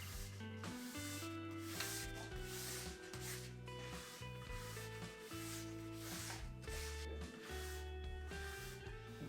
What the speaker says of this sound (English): you always want to give it a quick brush, even if you've not skied on them yet, before you wax